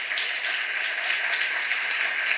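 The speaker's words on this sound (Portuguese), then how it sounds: "Pode aplaudir Jesus bem forte." Church congregation applauding during a worship service, a steady dense wash of clapping held at an even level throughout, without audible talk.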